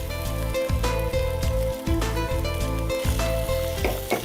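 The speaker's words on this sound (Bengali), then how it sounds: "আপু এখন স্ক্র্যাম্বল করে নিচ্ছেন স্ক্র্যাম্বল এগ" Eggs are scrambled in a hot pan for fried rice with a crackling sizzle, while a background of rhythmic music plays steadily throughout.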